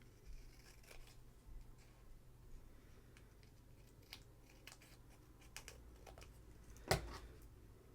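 Scissors snip paper tags for a junk journal craft, a quiet series of soft, scattered cuts close by, ending in one sharper snip near the end; no talking.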